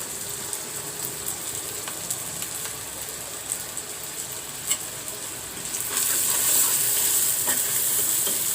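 Papaya and spices frying in a pan while being stirred, a steady sizzle with repeated scraping and clicking stir strokes, swelling louder and brighter after about six seconds.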